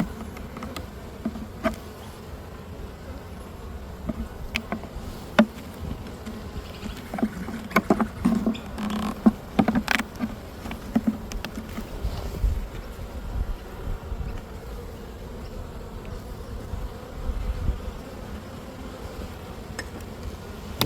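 Honeybees at an open beehive during an inspection give a steady, dense buzzing drone, with scattered clicks and knocks of frames being handled nearby and occasional louder bursts of nearby bees.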